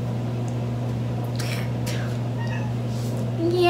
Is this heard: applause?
no